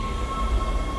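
A tram in the Dead Space video game rides along at a flight deck station, giving a steady low rumble of rail travel with a faint constant tone above it. It sounds continuous and even for the whole second.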